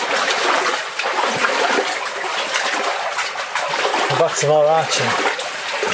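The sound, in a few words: water flowing down a mine shaft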